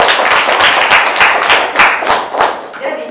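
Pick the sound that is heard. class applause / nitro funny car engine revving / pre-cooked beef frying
class applause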